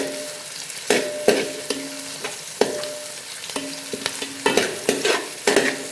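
Onions frying in a pan with crushed ginger, garlic, green chillies and curry leaves, a steady sizzle broken by repeated sharp scraping stirs of a spoon, close and clear with no talking.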